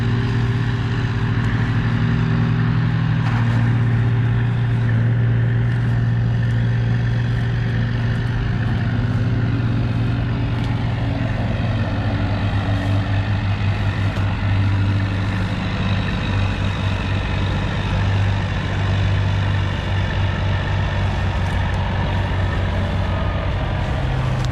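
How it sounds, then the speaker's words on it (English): Logging truck backing in on a homestead timber site: a loud, steady diesel engine drone with a low throbbing hum holds throughout, close by and without pause. "there comes the truck backing in"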